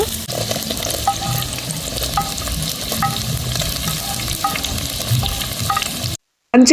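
Onions frying in hot oil for a squid masala, a steady loud sizzle with occasional stirring clicks, close by, ending in a brief silence.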